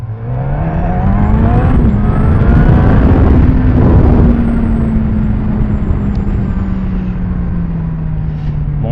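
A Suzuki GSX-S 1000F motorcycle's 1000 cc engine pulls hard under acceleration, a loud close drone climbing in pitch, then holding and easing slightly, with heavy wind rush throughout.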